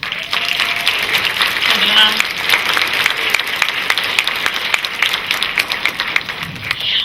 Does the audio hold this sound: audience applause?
yes